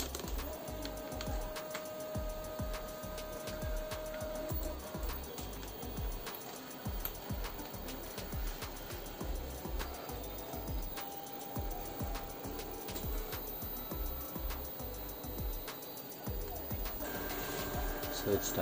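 Homemade scratch-built 3D printer on its first test print, faint stepper motors whirring in quick irregular bursts with short pauses, a soft background hum throughout and occasional light clicks.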